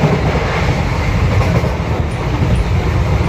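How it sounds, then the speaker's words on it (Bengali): Teesta Torsa Express running at about 95 km/h, heard from a window seat as a loud steady rumble of wheels on rails with rushing wind, continuous and close with no talk. "ট্রেনের স্পিড এই মুহূর্তে 95 কিলোমিটার প্রতি ঘন্টা, ভীষণ জোরে যাচ্ছে।"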